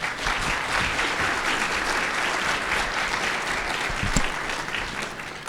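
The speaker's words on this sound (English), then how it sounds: "Can you give her another round of applause" An audience gives a speaker another round of applause at a talk on mental health crises, a full, sustained roar of many hands clapping at once, steady throughout.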